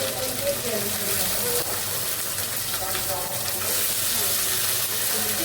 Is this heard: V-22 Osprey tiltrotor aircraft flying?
no